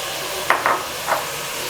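Mutton pieces being sautéed in a pan for mutton kurma, with a few soft stirring scrapes over a steady, faint sizzle.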